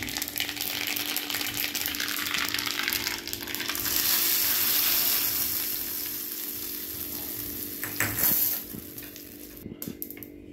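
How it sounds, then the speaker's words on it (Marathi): A tadka of spices hits hot oil poured over chutney, producing a loud, close, continuous sizzle and crackle that swells in the middle and then tapers, with a few clinks near the end. "असं आपण हा तडका देणार आहे चटणीला"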